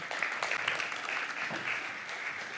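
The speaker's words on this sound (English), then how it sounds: "Round of applause." Conference audience applauding to welcome a speaker, a steady, even clapping from many hands lasting throughout.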